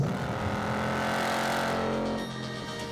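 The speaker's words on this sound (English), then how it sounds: "The 6-speed features automatic rev matching for perfectly smooth downshifts every single time" A 2019 Ford Mustang Bullitt with a six-speed manual, its engine roaring loudly and steadily up close, then dropping off in level near the end as it downshifts.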